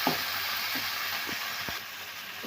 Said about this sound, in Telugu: ఇందులో కట్ చేసి పెట్టుకున్న ఒక పెద్ద సైజ్ టమాటో, మొత్తం మంచిగా ఫ్రై అవ్వాలి.